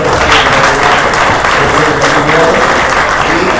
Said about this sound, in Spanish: Le damos un aplauso al director de la Facultad de Derecho